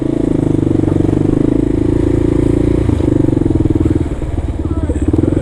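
A motor scooter rides past on a New York City street, its close, loud, buzzing engine clattering steadily before briefly easing off and picking back up.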